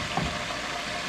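Chicken thighs frying in a pan give a steady, dense sizzle and crackle of hot oil, close and continuous throughout with no voices over it.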